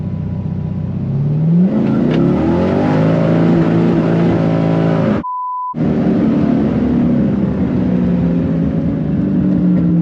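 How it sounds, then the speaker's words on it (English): At a drag race start, a car engine roars and revs up loudly with tires spinning, and after a brief dropout with a tone the engine noise carries on strongly. "She got scared from the tire spinning."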